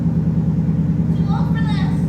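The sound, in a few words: Ford Mustang engine loud on cold start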